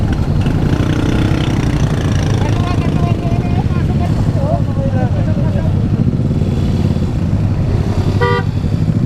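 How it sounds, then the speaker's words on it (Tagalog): Many motorcycle engines idle and rumble close by in a busy crowd at a checkpoint, with people talking over them and a short horn toot near the end. "Ayun, ang daming motor oh."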